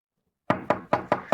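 Five firm knocks on a wooden door ring out in an even rhythm after a moment of silence, close and clear with nothing else heard.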